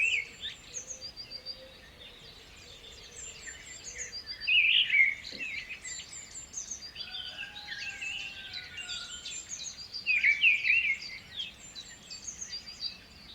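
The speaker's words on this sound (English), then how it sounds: "enjoy its beauty with the chirping sounds of birds in the" Birds chirping softly in the distance, with two brighter bursts of quick tweets amid a faint background of insect buzz.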